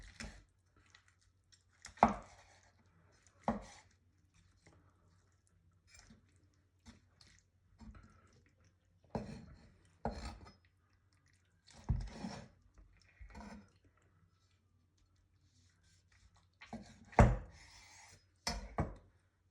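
A knife carves through the wishbone of a roast chicken in scattered bursts of crunching and cutting, separated by quiet gaps, close but fairly soft, with no talking.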